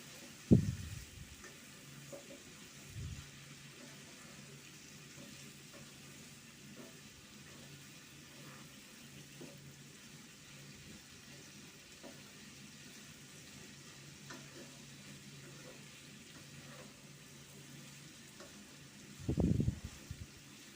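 Sliced bitter gourd and potato frying in a pan, with a soft, steady sizzle running throughout and a louder scrape of stirring at the start and again near the end.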